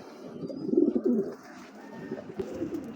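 Racing pigeons coo in low, throaty rolling bursts, strongest early on and then softer, close by with no talking.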